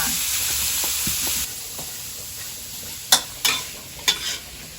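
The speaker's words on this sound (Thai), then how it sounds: "รากหอมชูนะคะเอาไปทุบก่อนแล้วก็ผัดให้หอมเลยค่ะ" Pounded spring onion roots stir-fried give a loud close sizzle that eases after a moment, then a few sharp scraping clatters of stirring toward the end.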